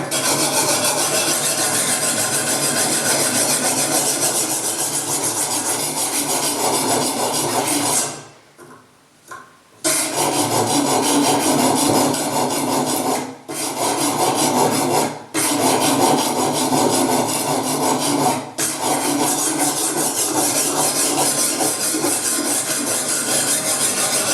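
A knife sharpened on a two-grit whetstone, stroked both away and toward the body, making continuous gritty rasping scrapes with a few brief pauses between runs.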